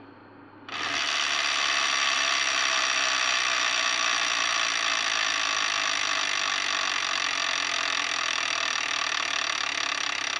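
The spinning wheel of a Wheel of Fortune Deluxe Edition electronic tabletop game whirs and clicks in a dense, continuous ratcheting stream, loud and close, starting abruptly near the beginning and running without pause.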